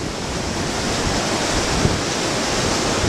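A small river rushes fast at its outlet after Hurricane Tomas in St. Lucia, a loud, steady broadband roar of churning water that fills the scene without a break.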